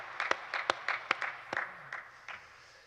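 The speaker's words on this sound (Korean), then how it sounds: "우리 주님 앞에 영광의 박수 올려드립니다." A small congregation at a morning church prayer service gives a brief, sparse round of hand clapping, a dozen or so distinct claps in an uneven rhythm that thin out and fade within three seconds.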